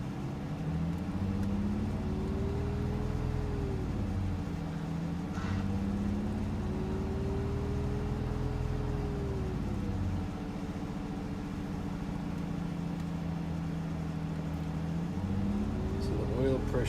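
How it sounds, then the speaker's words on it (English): Car engine revving up and easing back during a test drive, a steady cabin drone with rising and falling tones under continuous talking. "let's see here if I rev it up."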